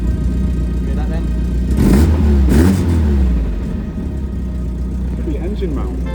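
A car's boxer engine, with a suspected worn engine mount, revs briefly near the microphone, a low rumbling surge that rises and falls over about two seconds before settling to a steady idle hum, while people talk.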